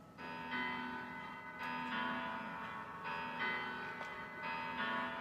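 Bass-register studio keyboard notes C4 and F4 repeat in a slow, steady pattern. The tone is soft and bell-like, with long ringing sustain and no voices.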